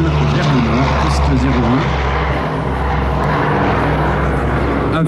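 A propeller aircraft at the Melun 2024 air show takes off northward, a loud, close, droning engine roar heard steadily throughout, with voices talking over it.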